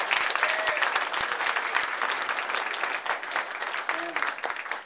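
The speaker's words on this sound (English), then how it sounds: "We just give her a little round of applause as well." An audience at a community event gives a warm round of applause, dense steady clapping close by that fades slightly toward the end, with a voice heard briefly over it.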